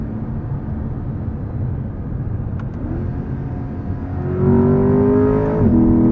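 A 2021 Chevrolet Corvette Convertible Z51 with a mid-range V8 blips through a quick downshift, then its engine note climbs loudly under hard acceleration, heard from inside with steady road rumble beneath.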